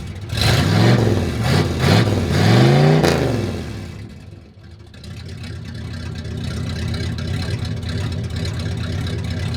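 A small engine in a 4x4 ambulance camper van starts by push button with a few revving surges, then settles into a low, uneven idle that sounds thin and weak, its idle screw turned down.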